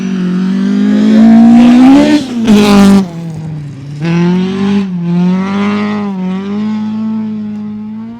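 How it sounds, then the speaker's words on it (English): A rally car's Ford BDA engine screams close by on a rally stage, revving hard through gear changes with a sharp burst as it passes, then a steady high drone fading. "Never get sick of listening to the sound of a BDA on a rally stage."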